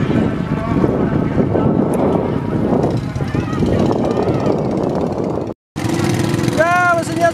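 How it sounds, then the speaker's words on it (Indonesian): Engines of four racing sampans run at a boat race on Pantai Gelora beach, a loud steady rumble mixed with wind buffeting the microphone, briefly cut off, then resuming with a rising whine as a voice talks over it. "Ya, mesinnya sudah dinyalakan."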